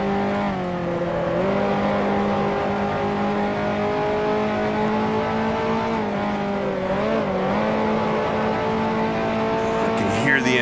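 Race car engine in the Grand Prix Legends racing game, a 1955 Formula One car at the Dutch Grand Prix, droning at steady high revs with a brief dip and recovery, continuous and close.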